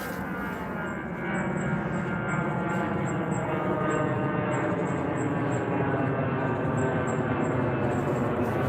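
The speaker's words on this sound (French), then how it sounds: "T'es repéré par avion, là." An airplane flies overhead as a loud, steady engine drone that swells slightly after the first second and holds, with a thin high whine riding on top.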